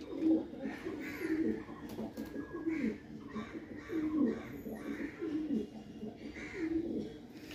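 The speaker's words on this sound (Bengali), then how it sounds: "এই দুটো পায়রা" Pigeons coo nearby in a soft, repeated rhythm, giving about seven low throaty calls at fairly even intervals against quiet background noise.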